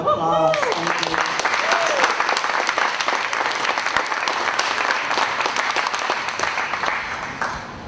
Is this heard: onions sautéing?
no